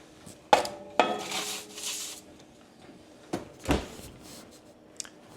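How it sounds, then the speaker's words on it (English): A metal baking tray of keto pepperoni and cheese buns clanks as it goes into a preheated oven, with sharp metallic knocks, a rattling slide and a door thump, close and fairly quiet with no talk. "Toss these guys into a 350 preheated oven for about 15-20 minutes."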